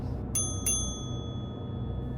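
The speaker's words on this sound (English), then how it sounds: "a bell rang sharply" A bell rings sharply twice in quick succession as an audio drama sound effect, clear bright strikes with a long ringing decay in a quiet room.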